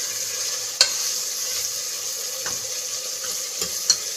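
Onions frying over a medium flame in a pot for chicken degi qorma, a steady close sizzle with a few sharp scrapes of a spoon stirring at intervals, no voices.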